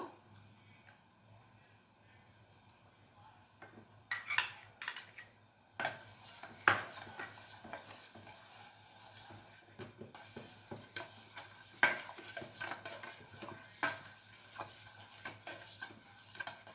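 Neem leaves are stirred into a melted mixture in a pan, with a soft sizzle beneath repeated metal spoon scrapes and clinks against the pan, close and fairly quiet, alone without talk.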